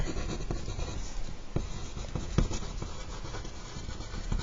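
Pen or pencil scratches by hand as a math rule is written out, soft, close, irregular strokes and taps with no talking.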